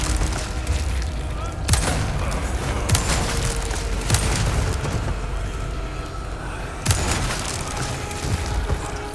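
Heavy hand cannon shots from the Resident Evil 4 Remake video game, a few loud booming blasts spaced several seconds apart over continuous game noise and background rumble.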